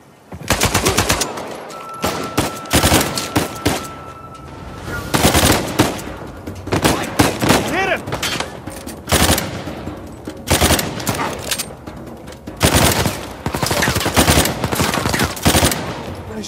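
Gunfire in the video game Uncharted 4, loud bursts of automatic fire and single shots in rapid clusters through a combat scene, with brief gaps between volleys.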